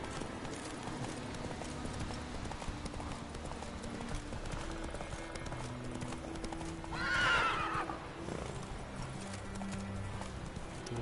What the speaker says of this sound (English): Vamos, caballo, vamos